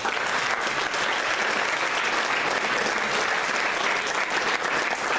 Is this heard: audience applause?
yes